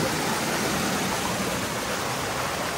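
Steady, dense rushing water roars without pause, a close jungle waterfall in Nagaland, Northeast India, its broad hiss filling everything with no voices.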